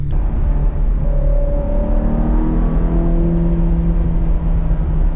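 Ferrari 360 engine running hot on a short test drive, a steady loud low rumble with rising and falling whine tones as it revs and accelerates, no talking.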